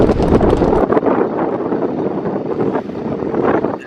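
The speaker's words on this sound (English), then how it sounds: "A bit windy over the estuary." Wind over an estuary near Timoleague Abbey on the Cork coast buffets the microphone in loud, uneven gusts that rumble and flutter for a few seconds, with no talk.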